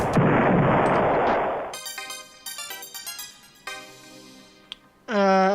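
An alien ship's gun fires in the Star Control 2 space battle: a loud rushing blast, then a run of ringing electronic tones and chirps, ending in a sharp warbling burst.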